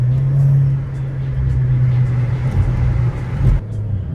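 Low, steady engine hum from a Volkswagen Passat CC 2.0, heard from inside the car while driving, with a deep bassy drone that swells slightly before easing off near the end.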